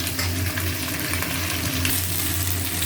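Taro, potato and eggplant sizzle and crackle in hot oil, a steady close frying hiss with occasional stirring scrapes.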